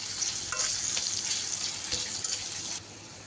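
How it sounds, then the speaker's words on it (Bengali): Onions fry in a pan for Malabar spinach, a steady close sizzle with a few stirring scrapes, loud and continuous until it drops slightly near the end. "দেখুন, পেঁয়াজটা ভাজা হয়ে আসছে"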